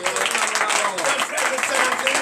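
A congregation claps and cheers together during morning prayer, dense applause sustained throughout with voices mixed in.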